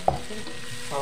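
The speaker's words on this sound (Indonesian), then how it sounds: "kita aduk-aduk lagi" Spoon stirring chopped lemongrass stalks and spice paste frying in oil in a pan, a short soft scrape over a low steady sizzle, close and alone.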